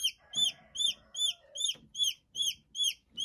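Newly hatched chicks in a brooder peep in a steady rhythm of high, clear chirps, roughly three per second, close by, with faint rustling and thumps underneath.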